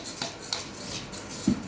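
A spoon scrapes and clinks against a cooking pot while a mixture is stirred, soft repeated strokes with a light metallic tap near the end.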